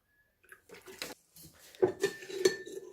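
Egg yolk, yogurt and milk being whisked in a bowl with a spoon or whisk, producing a few bursts of clinking, scraping strokes against the bowl that grow louder toward the end.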